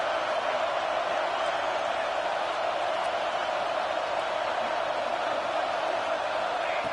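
Stadium crowd noise rises in a college football video game as fans roar to rally the defense for a red zone stop, a steady broad wash of cheering at moderate level without a distinct commentator voice.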